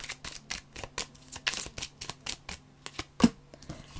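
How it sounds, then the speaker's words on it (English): A deck of tarot cards is shuffled by hand close up, giving a rapid run of crisp riffling flicks and slaps in an uneven rhythm, with no voices. "I'm just going to shuffle, let these cards fly out"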